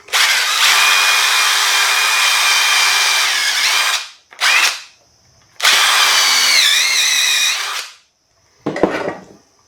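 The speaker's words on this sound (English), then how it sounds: "we're going to put a screw in the bottom of here to get this thing tidied up" A power drill drives a screw into black walnut for a crossbow wall mount, whining loudly at steady speed in two long bursts with a short blip between, then one brief final pulse, close up and without talk.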